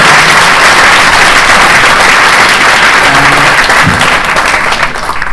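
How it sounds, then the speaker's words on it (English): A conference audience breaks into loud, dense applause that holds steady before tapering slightly at the end, with a faint voice briefly audible underneath. "Clap."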